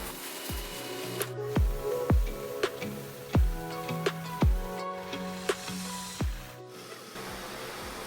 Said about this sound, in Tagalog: Pati po silong ay aming ini-spray para sigurado po talagang walang bakterya.